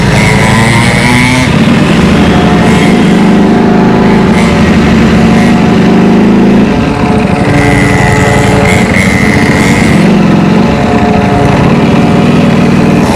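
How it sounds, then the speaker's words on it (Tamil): Ducati motorcycle engine droning loudly and steadily at speed, with the pitch rising and falling as the rider accelerates, close and continuous with strong wind-like roar throughout. "வண்டி நல்லா ஸ்பீடா போகுது போல"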